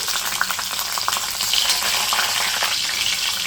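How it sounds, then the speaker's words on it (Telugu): Bay leaf, cinnamon, cloves, poppy seeds and whole garam masala hit hot oil for a mushroom biryani, producing a bright, crackling sizzle with light stirring, close and continuous, with no one speaking. "నూనె వేడెక్కింది కదా ఇప్పుడు అందులో బిర్యానీ ఆకు దాల్చిన చెక్క లవంగాలు కొంచెం గసగసాలు టోటల్ ఓల్ గరం మసాలా వేసుకుంటున్నాను"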